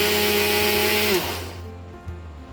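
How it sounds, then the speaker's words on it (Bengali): An electric grinder pulverizes sesame seeds with a loud, steady motor whine that winds down and fades after about a second, leaving a low residual hum. "এখানে আমরা তিলগুলোকে গুঁড়ো করে নিচ্ছি।"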